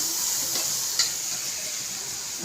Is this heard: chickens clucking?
no